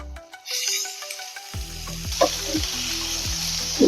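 Onions, cut into large chunks, fry in a hot pan for an Indo-Chinese chilli paneer, with a steady loud sizzle and a few clinks of a spoon stirring. Nobody talks.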